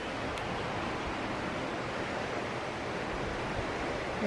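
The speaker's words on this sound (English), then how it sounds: "the snow just melted and the water is flowing pretty good" Snowmelt-swollen Eagle Creek rushes below a wooden covered bridge, a steady broadband roar of flowing water heard from above, faint and unbroken.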